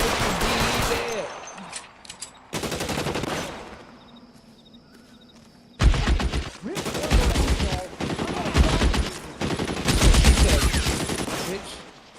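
Gunfire in the LA Noire video game rings out in loud bursts, with several rapid volleys and single shots separated by brief lulls, the heaviest clustered shots coming in the second half.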